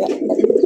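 A male domestic pigeon gives a short, close, mid-pitched cooing call, a soft throaty burble with quick pulses. There is no talking over it.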